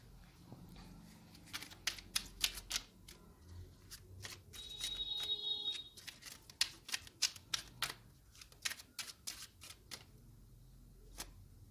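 A Lenormand card deck being shuffled by hand, a quick series of crisp riffling flicks and soft slaps in bursts, close and quiet, with no talking.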